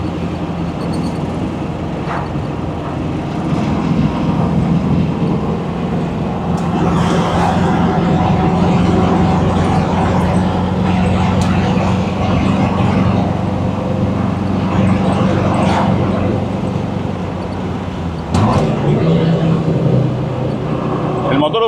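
A Saab Sonett III's V4 engine drones steadily at low pitch, with road and cabin noise throughout and small shifts in load.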